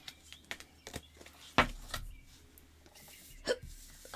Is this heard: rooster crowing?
no